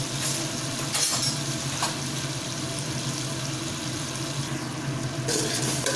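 A ground ginger and cumin paste hits a hot spice tempering in oil, giving a wet, moderate sizzle with occasional stirring scrapes that holds steady throughout. No speech.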